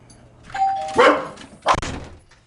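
A video doorbell chime rings twice, close and clear, with a short pause between the two tones; no talking.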